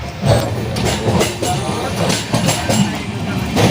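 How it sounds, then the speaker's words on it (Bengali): A train departing Rajgangpur, Odisha rumbles steadily along, with rhythmic low clatter and broadband rolling noise throughout, loud and close. "রাজগাং ছাড়লো ট্রেন"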